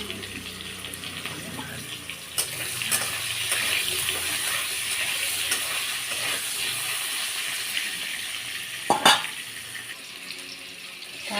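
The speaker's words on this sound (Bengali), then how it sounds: "আলুটা আমার ভাজা হয়ে গেছে এবার তুলে নেব ওই তেলে বেগুনগুলো আমি দিয়ে দেব" Potatoes frying in hot oil in a home kitchen, giving a steady, close sizzle throughout with a short, sharper burst of crackling near the end and no talk.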